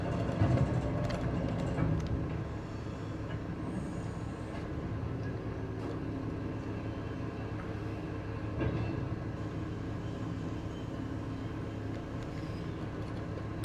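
A farm implement folds up behind a small tractor in Farming Simulator 25, giving a steady low mechanical rumble and whir that runs throughout, slightly louder at the start with a brief clunk midway, and no talk.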